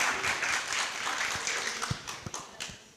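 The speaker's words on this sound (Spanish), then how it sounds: "Aplauso para él." Applause from a press conference audience, a quiet patter of scattered hand claps heard from a distance that fades out toward the end.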